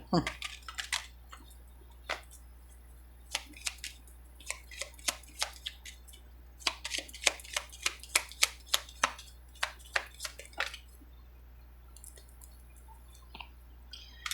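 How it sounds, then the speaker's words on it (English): Tarot cards drawn and handled from a deck, giving a run of sharp, close clicks and flicks in irregular bursts over a low steady hum, with no talking. "Oh, I want to get a couple more cards."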